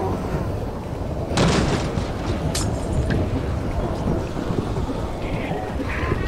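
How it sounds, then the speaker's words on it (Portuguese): Heavy rain pours steadily in a Minecraft thunderstorm, with a loud thunder crack near the middle and another rumble soon after, all continuous and close without talk. "A tempestade que tá caindo aqui... Ela é muito forte."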